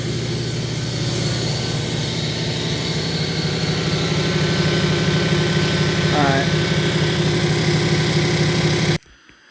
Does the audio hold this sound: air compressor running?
yes